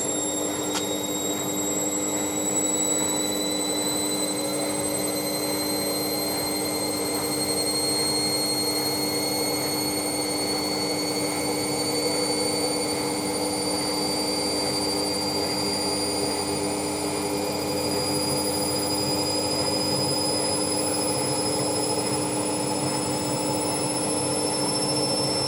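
Ariston Margherita A1635 washing machine on a 60°C fast coloureds programme spinning at 800 RPM, a steady loud whine with rising pitched tones climbing gradually as the drum speeds up, alone and continuous.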